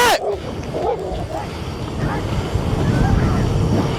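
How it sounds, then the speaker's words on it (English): A pack of dogs barks and yips while chasing a motorcycle, the animal noise mixed into heavy wind buffeting and a steady low rumble, continuous and close. "Getting chased by a pack of dogs can end badly"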